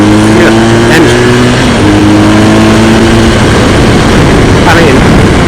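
A 2015 BMW R1200GS motorcycle engine drones steadily while riding along a bumpy back road, loud and close with heavy wind rush, a low engine tone that shifts partway through.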